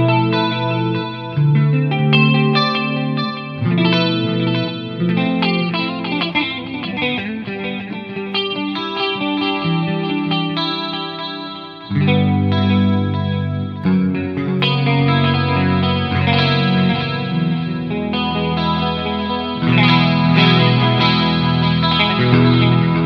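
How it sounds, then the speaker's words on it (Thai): An electric guitar rings out through reverb, delay and chorus effects, with sustained shimmering chords and single notes blooming into long, wide echoing tails that fill the whole stretch without any talking. "ก็จะมีทั้งเสียงรีเวิร์บเสียงดีเลย์เสียงคอรัส3เสียง"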